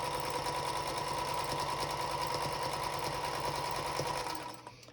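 A sewing machine stitches fabric at an even, rapid mechanical rhythm, close and steady, then winds down and stops at the end.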